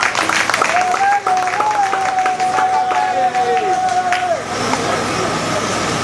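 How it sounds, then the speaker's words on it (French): Wedding guests at a civil marriage ceremony applaud the bride, clapping under a loud sustained celebratory ululation-like voice and crowd noise, with the cheering cutting off near the end while the clapping continues. "On va applaudir pour la mariée."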